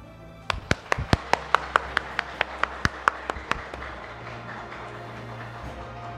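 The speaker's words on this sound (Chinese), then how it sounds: "热烈掌声！" Audience at a taxpayer rights protection forum clapping in a brief burst of sharp, spaced claps over a low room hum, with the claps dying away after a few seconds.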